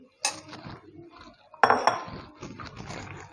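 Vermicelli goes into a pan to roast in desi ghee with a few sharp clinks and rattles of metal cookware, separated by brief quiet gaps.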